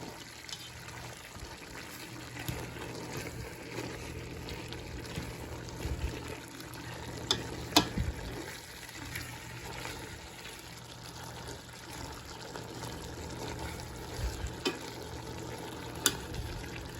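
Ground hamburger meat with three cloves of chopped garlic fries in a pan for spaghetti sauce, a soft steady sizzle with occasional stirring clicks and scrapes, low and continuous with no talk.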